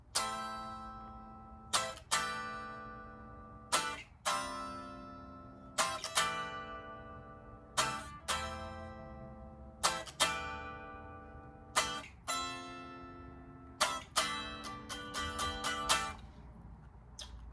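Rhythm guitar plays the intro of a song, with steady, ringing strummed chords in a repeating pattern. Quicker strokes bunch up toward the end, and no voice is heard.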